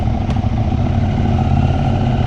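A 2025 Husqvarna Svartpilen 801 motorcycle fitted with an Ixil slip-on exhaust idles close by, a loud, steady low throbbing rumble with even pulses and a brief click near the start.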